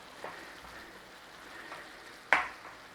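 Sun-dried tomatoes stirred in a frying pan give off a low, steady sizzle, with one sharp scrape of the spoon against the pan near the end.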